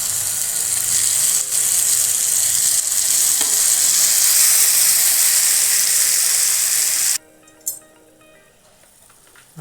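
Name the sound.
two tomatoes frying in oil in a frying pan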